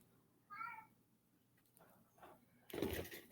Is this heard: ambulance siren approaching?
no